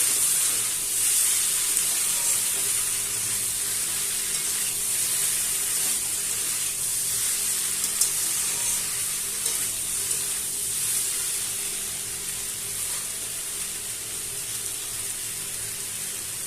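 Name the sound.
sautéing curry in a pan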